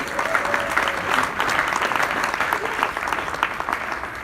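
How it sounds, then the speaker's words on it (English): A crowd at a foundation partners reception gives a sustained round of applause, dense steady clapping with a few scattered voices mixed in. "Give yourselves a big round of applause, please"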